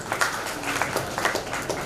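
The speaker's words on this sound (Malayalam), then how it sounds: "നല്ല കയ്യടി കൊടുക്കല്ലേ?" Brief applause from a church congregation at a parish day celebration, a short burst of scattered hand claps at moderate loudness.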